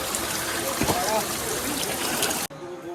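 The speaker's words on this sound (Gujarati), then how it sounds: "કેટલો બ્યુટીફુલ ઝરણો છે." A small mountain stream trickles and babbles steadily along a hillside trail near Harihar fort, a close continuous watery rush that cuts off abruptly near the end.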